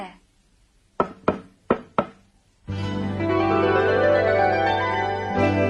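Four sharp, close knocks on a door in quick succession, then a song with singing and music starts loudly right after.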